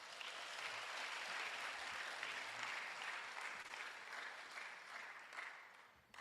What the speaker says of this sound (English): Let's clap hands for ourselves.